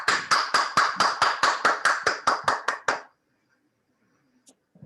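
Rhythmic hand clapping at an online webinar meeting, about sixteen evenly spaced claps in a steady beat that stop abruptly, followed by near silence with a couple of faint clicks.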